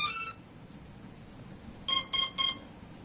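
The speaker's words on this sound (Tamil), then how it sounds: "இந்த பேட்டரி கேபிள் ரெண்டையும் வந்துட்டு ஒன்றா நீங்கள் கனெக்ட் பண்ணீங்க அப்படின்னா வந்துட்டு ஒரு 3 பீப் சவுண்ட் வரும்" A drone flight controller gives three short, bright electronic beeps in quick even succession when its battery is connected, following a brief tone at the start, over a quiet background.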